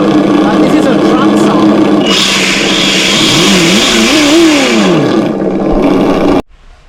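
A simulated truck engine from an ESS One Sound System fitted on a car revs loud and close, its pitch rising and falling in several swells before cutting off abruptly near the end.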